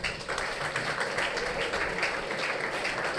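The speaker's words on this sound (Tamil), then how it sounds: "ஒரு கைத்தட்டு கொடுத்துருங்கப்பா ப்ளீஸ்." An audience at a Tamil stage event in Chennai claps steadily in a dense, continuous patter of applause lasting a few seconds.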